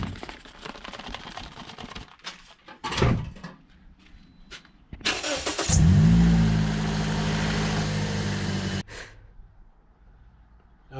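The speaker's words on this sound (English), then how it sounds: "The moment we all been waiting for now. Turn on the car." Car engine, on a daily driver just fitted with an oil catch can, cranks and starts after some clunks and handling noises, then settles into a loud steady idle for a few seconds before cutting off.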